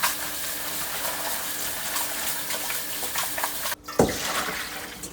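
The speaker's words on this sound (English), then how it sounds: "Now we're gonna wash the cabbage." Cabbage for kimchi being washed under running water, a steady close-up splash and stream that briefly cuts out near the end and then gushes back in.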